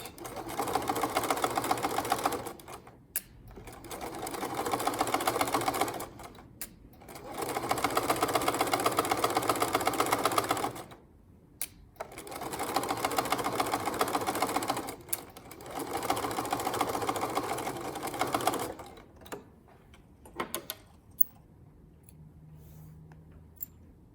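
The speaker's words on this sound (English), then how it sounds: "I'm ready to sew a straight seam" A sewing machine runs a straight seam on a flat felled seam, whirring in five steady bursts of a few seconds each with brief pauses between, close and alone, trailing off into a few faint clicks.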